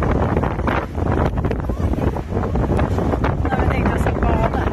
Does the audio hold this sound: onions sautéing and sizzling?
no